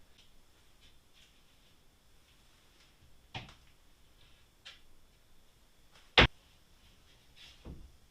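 Cabinet doors on spring-loaded self-closing hinges in a fish house interior being shut, a few soft knocks and one sharp, loud snap as a door closes, with quiet space between.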